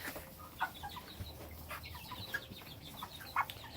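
Roosters and chickens on a small farm cluck and squawk in short bursts against a busy outdoor background, several birds calling at moderate distance with no talking.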